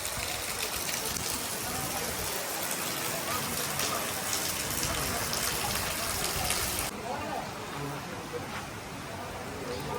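Heavy rain pouring in a Pakistani village, a dense continuous wash of falling water steady throughout, with a voice speaking over it.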